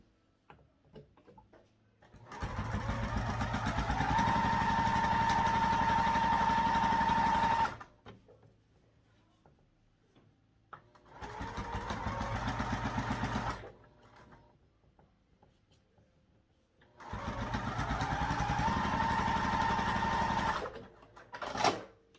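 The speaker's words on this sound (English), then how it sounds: "we'll sew along the top edge of both with 1/2 inch seam allowance again" A sewing machine stitches along the top edge of two fabric pieces with a half-inch seam allowance, running in three steady buzzing bursts of several seconds each, separated by short quiet pauses.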